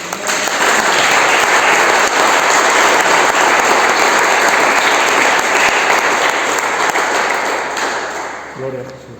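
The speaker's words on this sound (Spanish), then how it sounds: "Un fuerte aplauso a la señora." Loud, sustained applause from a church congregation for a woman, dense clapping throughout with faint speech mixed in, tapering off near the end as a voice emerges.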